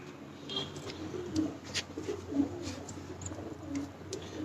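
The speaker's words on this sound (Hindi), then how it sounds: "उस्ताद इस कबूतर को आप पकड़े।" A pigeon held in the hand gives soft, low cooing calls, several short coos spaced a second or so apart, close but quiet over a faint background.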